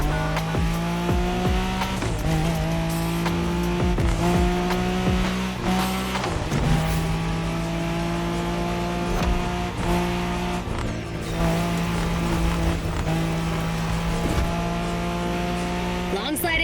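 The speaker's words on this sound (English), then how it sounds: "Drift for style or tight drift for speed." Cars drift and slide in The Crew Motorfest racing game, with long sustained engine drones shifting pitch and repeated tire squeals over a steady loud roar.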